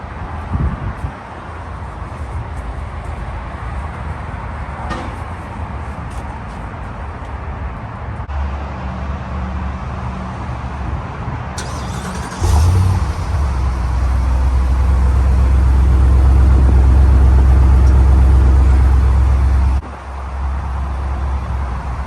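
A Ford 7.3L Godzilla V8 fitted in a 1999 Mustang Saleen clone idles loudly up close, then revs up and holds a deep sustained roar before settling back to idle.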